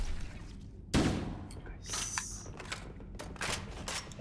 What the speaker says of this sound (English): Can you fire just one bolt from the assault rifle?